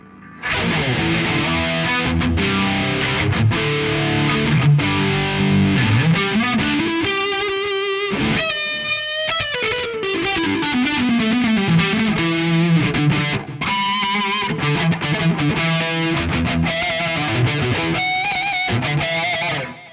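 A heavily distorted electric guitar plays a fast, wailing solo with bends and runs, loud and continuous, with no voices.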